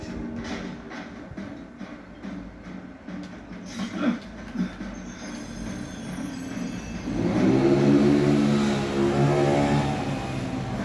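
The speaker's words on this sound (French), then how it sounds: "Désolé pour le bruit de la moto." A motorcycle engine revs up loudly partway through, a rising throaty roar following quieter rumbling and clatter, fairly close.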